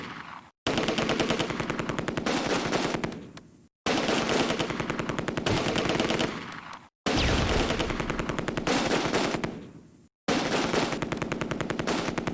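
Machine guns in the Close Combat wargame firing in long sustained rattling bursts, four extended streams of rapid fire separated by short silent breaks, loud and close.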